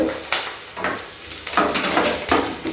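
Fennel seeds and spices being stirred and sautéed in a hot pan, giving a close, steady sizzle broken by a few scraping stirs, with no talk.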